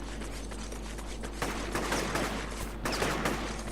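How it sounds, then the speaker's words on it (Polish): Gunfire in the video game inFAMOUS comes as rapid, continuous rattling shots that rise in bursts over a constant low hum, fairly loud and with no talking. "Kto, który we mnie strzela?"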